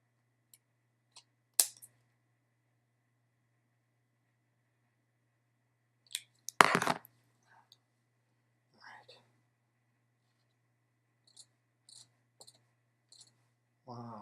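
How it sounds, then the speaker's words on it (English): A hotel key card scraping watercolor paint off paper: a few short, sparse scratches and one louder rasping burst mid-way, close and dry, with long quiet gaps and faint whispered talk. "Scratch that out and see how it works with scraping."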